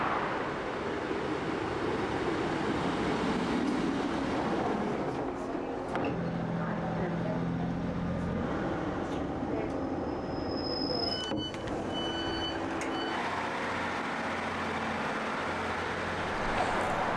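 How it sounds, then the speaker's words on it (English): A train runs through a request-stop station on the Calder Valley Line with a steady, loud rumble of wheels on rails that lasts throughout, along with high squeals and screeches around the midpoint. "as I'm about to get interrupted by a train"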